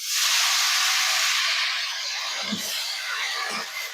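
Freshly washed wet leafy greens hit hot oil spiced with green chilli and garlic, setting off a loud burst of hissing sizzle that slowly settles into a steady crackle, with a few soft low bumps.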